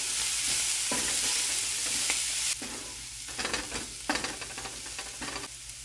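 A vegetable and masala mixture for a sandwich is stirred in a pan, with a steady sizzle under repeated scraping strokes of a spoon, close and fairly loud with no talking.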